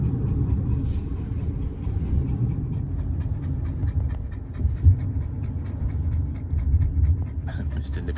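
A dog pants heavily and rhythmically inside a moving car, close and steady over a low engine and road rumble, with brief voices in the background.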